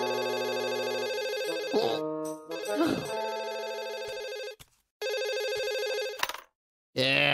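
A cartoon telephone rings in long sustained electronic bursts separated by short silent gaps, loud and close, with a few brief voice-like sounds in between.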